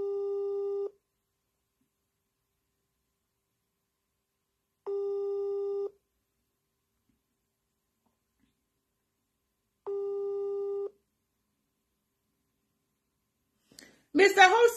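An outgoing phone call rings out unanswered, with three evenly spaced ringback tones of about a second each separated by long silences, followed at the end by a brief burst of voice.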